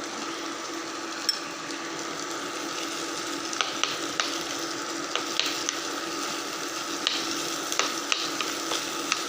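Milkfish sisig sizzles steadily in a hot pan, a continuous close frying hiss with occasional small clicks and scrapes of stirring, no talking.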